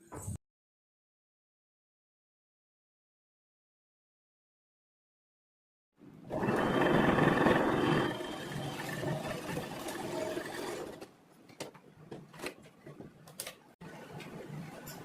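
A sewing machine stitching a girls' uniform skirt runs in a burst of fast mechanical whirring after a long silence, then continues more unevenly with clicks and pauses, close and moderately loud.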